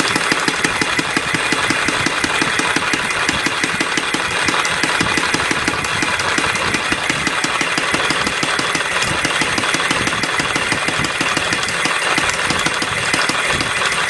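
A six-cycle engine idles steadily after a repair, a continuous loud mechanical run with a regular knocking pulse throughout, alone with no talk.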